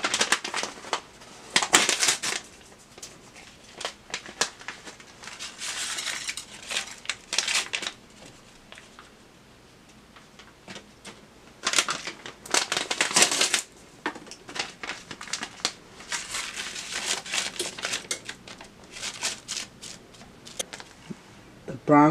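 Two packets of beefy onion soup mix being torn open and shaken out, crinkling paper rustles and crunches in repeated bursts close by, with short pauses between.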